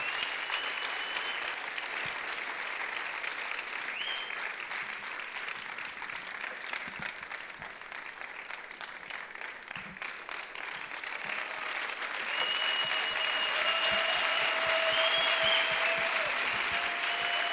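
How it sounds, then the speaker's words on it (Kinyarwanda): A church congregation claps and applauds continuously, a broad, even roar of many hands that swells a little louder in the second half, with faint tones and murmurs underneath. "Louder hand claps, more claps."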